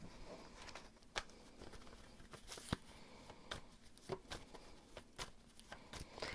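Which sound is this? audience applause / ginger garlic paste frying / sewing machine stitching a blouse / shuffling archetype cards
shuffling archetype cards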